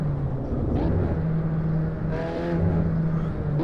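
Race car engine in the Assetto Corsa driving game, a steady droning engine note with a shifting pitch and a brief rise near the end, heard fairly loud and continuous.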